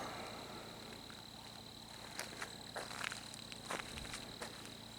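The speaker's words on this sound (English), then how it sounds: "I still can't believe how many crickets are making noise at 50 degrees out here this morning." Faint, steady cricket chirping fills a quiet early-morning forest scene at about 50 degrees, with a few soft rustles and footsteps close by.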